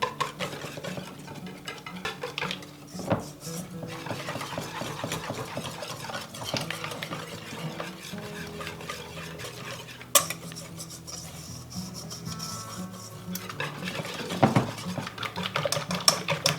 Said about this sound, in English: And we're going to whisk these until they're nice and smooth.